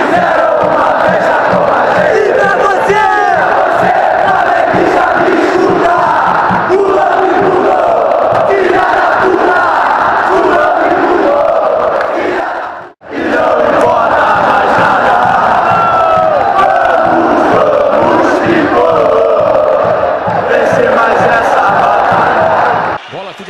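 Vasco fans at a Carioca championship semifinal football match against Fluminense roar, shout and cheer loudly and continuously as a dense crowd, broken only by one brief cut midway.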